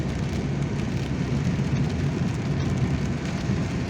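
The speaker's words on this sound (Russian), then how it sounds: "сейчас дождь продолжается" Steady rain drums on a car during a drive after a night of thunderstorms, a dense, even patter with the low hum of the road underneath, no voices.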